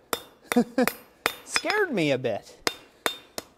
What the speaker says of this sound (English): we're going to come to the near side of the anvil, and we're gonna hammer just straight down on the flat here